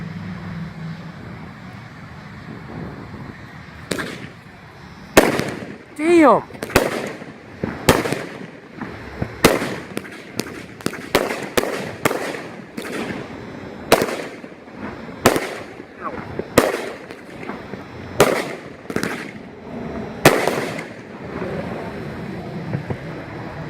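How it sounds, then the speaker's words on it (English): A 500 gram American Gold fireworks cake by Independence Fireworks fires 14 shots of gold flower crown and gold coconut effects outdoors. Sharp launch thumps and booming bursts come in a rapid irregular series, loud and near, with a brief exclamation from a person. "demoing the American Gold cake by Independence Fireworks, 14 shots, and the performance on it is a mix of gold flower crown and gold coconut"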